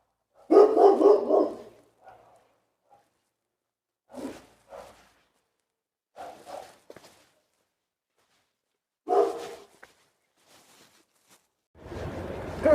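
An angry dog barks at a house gate in Serbia: a loud burst of barking, then several shorter, quieter bark bursts separated by long silences.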